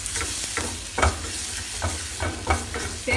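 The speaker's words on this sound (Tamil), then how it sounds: "இப்போ வந்து பச்சை மிளகா, தக்காளி, வெங்காயம் வதக்கிட்டேன்" Green chilli, tomato, onion and ginger sautéing in a pan, with a steady sizzle broken by repeated stirring strokes of a spoon, a few sharper scrapes spaced through, close and clear.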